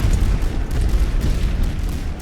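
Continuous heavy rumble of artillery and mortar explosions on a World War I battlefield in the game The Great War: Western Front, dense overlapping booms and bursts rolling together without a pause.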